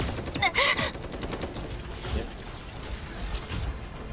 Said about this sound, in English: He shot from behind as well.